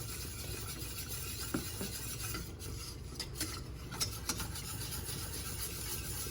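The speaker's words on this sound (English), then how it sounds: "Make sure you're whisking the whole pan." A whisk scrapes and swirls steadily around a pan as liquid is added to a roux, with a continuous rasping stir and a few light metallic taps.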